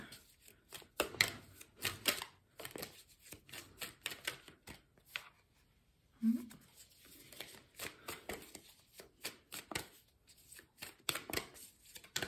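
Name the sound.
shuffling oracle cards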